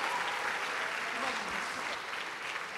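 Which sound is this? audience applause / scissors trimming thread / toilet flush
audience applause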